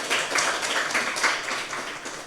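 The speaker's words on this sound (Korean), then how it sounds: "큰 박수 부탁드립니다" Audience applause at a graduate school admissions information session, a modest, fairly close patter of clapping from a small crowd that fades slightly toward the end.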